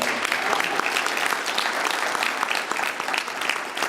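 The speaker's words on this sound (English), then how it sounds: "Give me a round of applause" Audience at a coaching seminar breaks into steady, dense applause, a continuous wash of clapping hands filling the room throughout with no talk over it.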